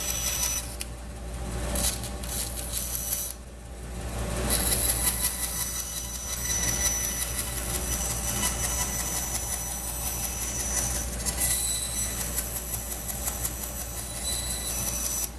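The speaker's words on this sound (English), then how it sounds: "Now I'm going to rough cut that on the bandsaw." A bandsaw rough cutting a part during a repair workshop job, giving a loud, continuous, steady whine and rasp that runs for the whole stretch with only a brief dip near the start, and no talking.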